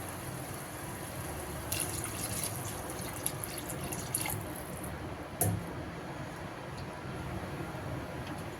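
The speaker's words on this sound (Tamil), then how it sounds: "இப்போ வந்து தேவையான அளவுக்கு தண்ணி சேர்த்துக்கலாம்" Water pours steadily into a cooking pot in a continuous splashy stream while making a drumstick prawn curry, with a couple of faint clinks partway through.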